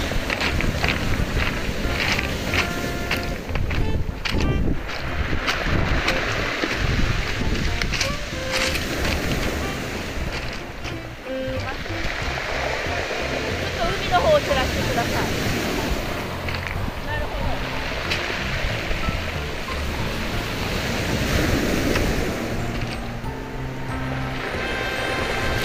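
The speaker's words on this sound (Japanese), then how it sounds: "海が荒れています" Rough sea waves crashing at Asari beach during a surf-fishing outing, a continuous loud roar of surf mixed with heavy wind buffeting the microphone.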